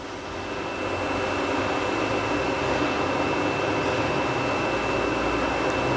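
A Southwestern Industries 3-axis CNC vertical milling machine with its spindle turning at 1500 RPM, a steady, loud whirring hum that swells in over the first second and then holds constant.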